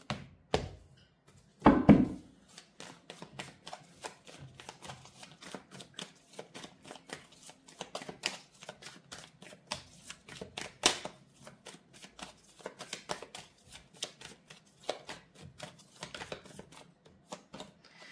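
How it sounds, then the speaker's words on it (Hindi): Tarot cards are shuffled and drawn one at a time: a burst of riffling, then a long run of soft irregular flicks, slaps and taps of cards close by, with no talking. "तो मैं एक एक करके कार्ड्स निकालूंगी"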